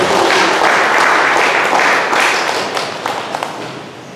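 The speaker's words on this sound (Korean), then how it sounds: "우리 박수로 한번 크게 환영하십시다." Congregation applause welcoming a pianist at a church camp lecture, with a broad, loud wash of many hands clapping that holds steady and then thins into scattered claps over a few seconds.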